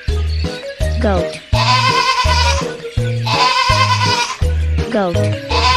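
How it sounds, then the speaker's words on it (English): Cartoon goat bleats in an animal-sounds video for toddlers: two long, loud, wavering bleats, each cut by short bleating bursts, over a bouncy, rhythmic backing beat. "Goat."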